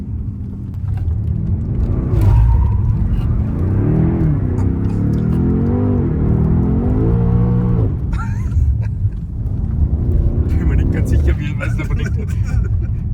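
BMW X6M engine revving as the big SUV slides sideways, a rising and falling drone with rumble and tire noise, while people talk inside the car.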